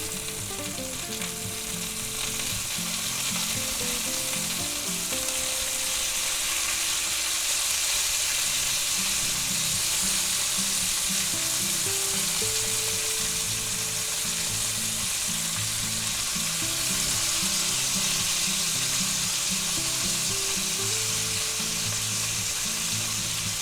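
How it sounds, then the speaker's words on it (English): Boneless pork chops sizzle loudly and steadily in a cast iron skillet while being basted with plenty of butter, a dense continuous frying hiss running throughout with no voices. "Now we're going to baste them with a little bit of butter."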